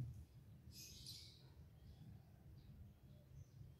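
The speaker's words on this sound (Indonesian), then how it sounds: "Ada suara burung" Birds chirp faintly outdoors among green leafy surroundings, a brief cluster of thin high calls early on, with a few softer tweets later over a low background rumble of distant traffic.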